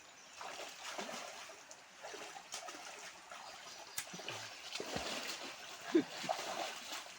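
People swimming in a river stir up faint, scattered splashes and sloshing water, with an occasional soft voice in the background.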